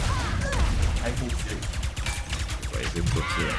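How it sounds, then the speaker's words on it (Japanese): Cannon fire in Ratchet & Clank: Rift Apart, a rapid string of loud blasts and crashing impacts packed close together, under someone talking. "大砲"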